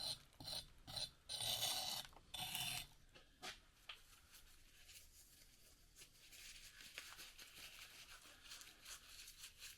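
A trowel scrapes leftover concrete and sand off a freshly cast concrete pot, giving several loud rasping strokes at first, then quieter, scattered scraping.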